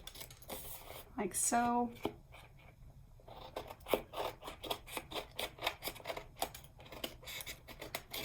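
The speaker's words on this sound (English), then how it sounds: "I'm gonna trim off this excess" Scissors snip excess paper from a scrapbook page, a run of crisp, evenly spaced cuts up close after a brief rustle, with a quiet voice speaking briefly.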